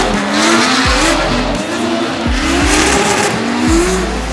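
A turbocharged Honda S2000 drift car with an F20C engine slides through a corner, its tires squealing loudly and continuously over the roaring, revving engine, with several sharp pitch sweeps as it shifts and transitions.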